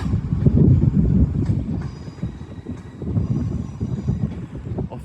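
Class 800 train on an Edinburgh Waverley to London King's Cross service passing at Carlisle, a loud continuous rumble with rail clatter and brief wheel squeal, steady and close throughout, with wind buffeting the microphone.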